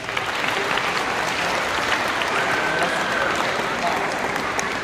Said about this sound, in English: let's give our instrumentation or students a round of applause